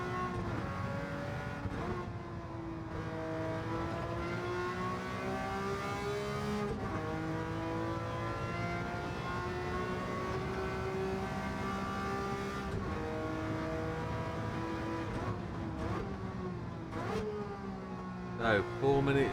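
A 1967 Ferrari P4 330 race car engine in Gran Turismo 7 at Le Mans drones and revs continuously, shifting pitch through gear changes, with a voice talking over it.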